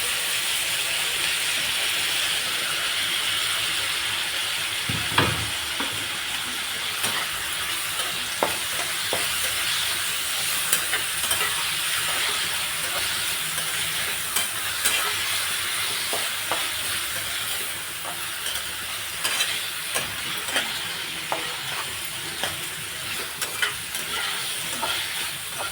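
Bitter gourd sizzles steadily in a hot pan while a spoon scrapes and stirs it in irregular clinks and scrapes, a constant frying hiss running underneath for the whole stretch.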